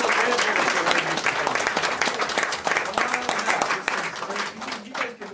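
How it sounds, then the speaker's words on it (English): A round of applause in a council chamber, dense steady clapping from a seated crowd that thins and fades toward the end, with a few voices faintly underneath. "let's give him a round of applause"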